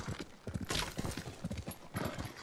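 Horse hooves clip-clopping in the video game Ghost of Tsushima, a quick steady gallop of dull thuds, faint and fairly close, with no talking over it.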